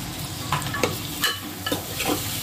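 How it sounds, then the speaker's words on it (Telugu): Washed lentils fry in a pan while being stirred, a close, dense sizzle with several quick scraping strokes in an irregular rhythm. "పప్పును కూడా ఇందులోనే వేసి ఫ్రై చేసుకోవాలి"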